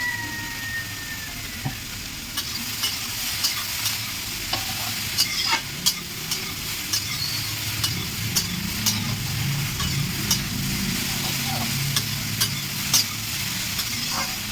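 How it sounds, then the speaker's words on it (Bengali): Water lily stems with salt and turmeric are being stirred in a pan for a hilsa fish dish, with soft, steady sizzling and repeated close scrapes and knocks of the spoon throughout. "শাপলাটা আমার একটু নাড়িয়ে তাড়িয়ে নিয়েছি হলুদ লবণ দিয়ে"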